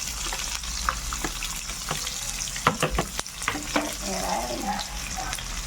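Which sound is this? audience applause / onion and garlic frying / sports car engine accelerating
onion and garlic frying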